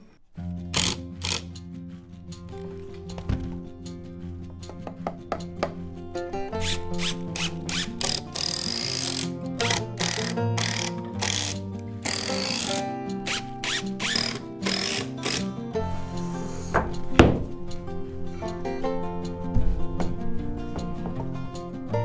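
Long 90–100 mm screws being driven into a wooden box eave frame during new-house carpentry, heard as repeated close buzzing bursts from a power driver, interspersed with knocks and rattles of wood.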